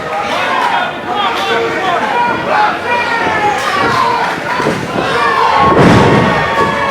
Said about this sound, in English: the crowd is letting them know they're loving every second of it